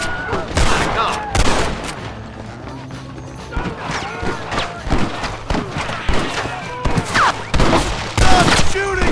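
Rapid gunfire from a Red Dead Redemption shootout crackles in dense, overlapping bursts of loud shots, with thuds and mechanical clicks mixed in and voices shouting between volleys.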